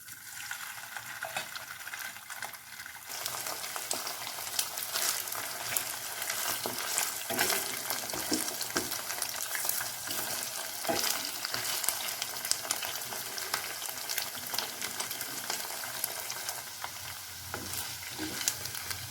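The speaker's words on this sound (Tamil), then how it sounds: "இதை எண்ணெயில் கொஞ்சம் ஃப்ரை பண்ணி எடுத்துக்கலாங்க" Marinated chicken pieces for butter garlic chicken drop into hot oil. The quiet start bursts into loud, dense crackling and bubbling that holds steady for the rest of the stretch, with no talking.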